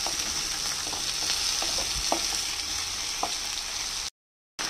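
Potatoes lightly frying in a pan for a winter radish-greens vegetable dish make a constant sizzle, with faint scattered clicks of stirring, then a brief drop to silence near the end.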